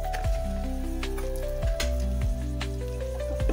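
Onion ajwain paratha frying in ghee on a tawa over a gas burner: a soft, continuous sizzle and crackle sitting under steady background music, with occasional light pops.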